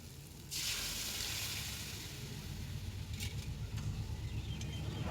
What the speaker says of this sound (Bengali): এরপর দিয়ে দেবো সিদ্ধ করে রাখা ট্যাং